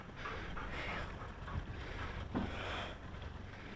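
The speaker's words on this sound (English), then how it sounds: "She knows how to drive a boat." A boat drives across a lake, its motor and the rush of wind and water forming a steady, loud drone with a few small bumps.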